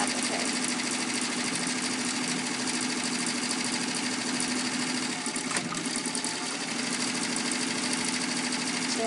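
An embroidery machine stitching the detail of a ladybug applique runs in a steady, loud, fast mechanical whir and buzz, continuous and close, with no pauses.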